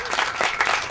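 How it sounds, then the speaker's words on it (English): Audience applause at the final of the 2012 Dave Shelton Memorial Cup soccer tournament, a short burst of dense clapping from a small crowd, fairly close and steady. "Can we go a round of applause, please?"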